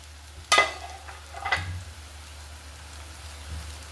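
Spice powders for a garlic pickle (turmeric, chili powder, chili flakes, panch phoron powder, mustard powder) dropped into hot oil and stirred: one sharp hissing burst, then a smaller one, over a faint low background.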